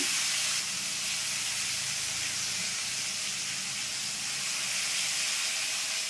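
Marinated meat goes gradually into a hot pan, giving a continuous, loud, steady hissing sizzle that barely changes across the few seconds, with no talking.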